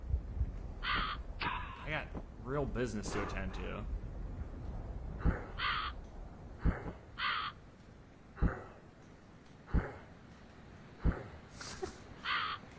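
Repeated caws of a crow-like bird in a dark fantasy video game, several short harsh calls spaced through the scene, fairly loud, with someone talking over them.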